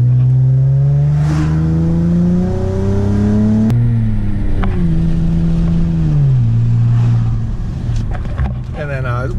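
A 2005 Nissan Altima SE-R's VQ V6 engine revs up and down, its pitch climbing and falling in smooth sweeps, loud and close, with a sharp blip partway through.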